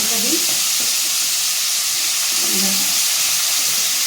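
Pointed gourd (potol) frying in hot oil gives a loud, dense, continuous sizzle right up close, with faint low clatter from the pan underneath.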